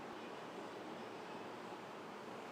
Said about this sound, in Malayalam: ചൂടായ എണ്ണയിലോട്ട് ഇട്ട് കൊടുക്കണം